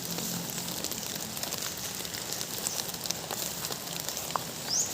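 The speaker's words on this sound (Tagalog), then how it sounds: "Oh, umuulan na." Soft, steady rain in a Bikol forest, a faint even patter with scattered drops ticking nearby and a thin bird call or two above the hiss.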